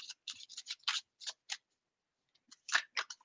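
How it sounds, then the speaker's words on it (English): Deck of tarot cards being shuffled by hand, a series of short crisp riffling bursts in two clusters with a brief pause between, close and clear with no talking. "So let's give these a good shuffle."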